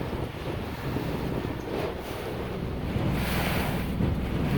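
A small powered boat hull slapping through small half-foot rollers at around 6 or 7 knots, with steady roaring wind and water wash throughout and no voices.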